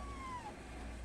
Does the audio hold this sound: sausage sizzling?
no